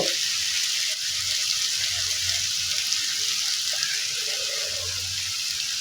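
A little water poured onto chilli and turmeric powder frying in a pan for a fish curry, producing a dense, steady hiss and bubbling sizzle with faint low stirring beneath, no talk.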